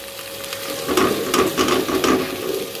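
Masala roasting in a pan, a steady sizzle broken by bursts of scraping stirring strokes, close and moderately loud with no talking.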